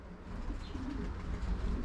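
Racing pigeons coo softly at the loft in a steady, low, continuous murmur of overlapping calls, with no voices over them.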